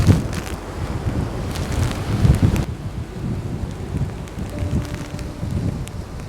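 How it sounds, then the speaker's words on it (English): Winter rain and wind storm in Lofoten, Norway, with heavy, rumbling gusts buffeting the microphone over steady rainfall, loud and close throughout, easing slightly partway through. "you can actually see the rain falling"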